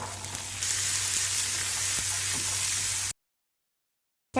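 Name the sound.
stirring boiled green peas into frying masala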